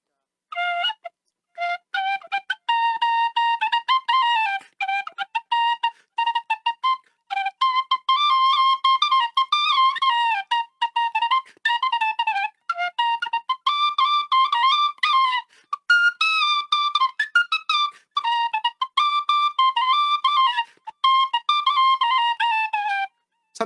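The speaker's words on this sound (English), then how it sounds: "we're gonna hear a little bit of a song from an Irish tin whistle" Irish tin whistle playing a lively tune, bright piping notes in quick runs and phrases with short breaks between them, clear and close with no talking over it.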